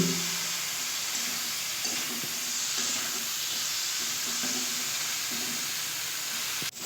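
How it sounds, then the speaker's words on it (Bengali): Spices frying in a pan with a soft, steady sizzle while they are stirred for red amaranth greens cooked with shrimp, with faint scraping now and then and a brief knock near the end. "সুন্দর করে মশলাটা দিয়ে ভালো করে আবারও কষিয়ে ভেজে নিলাম"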